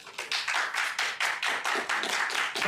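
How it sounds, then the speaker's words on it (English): Applause at a student association election debate: a few close, loud, irregular hand claps, sounding like a small group clapping near the microphone for a few seconds. "can you please give another round of applause to Kirara?"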